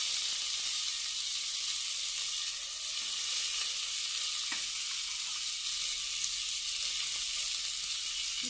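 Cumin, curry leaves and green chilli pieces sizzling in hot oil, a steady bright hiss held throughout with a few faint clicks and pops, no talking.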